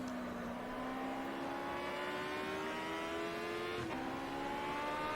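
An Aussie Racing Car's buzzy, motorbike-like engine in Automobilista at Hidden Valley Raceway drones steadily, pitch climbing through the gears with a brief shift dip, sustained and close.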